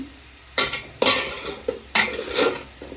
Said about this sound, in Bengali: ভেজে নিব পেঁয়াজগুলো বাদামি কালার করে ভেজে নিলাম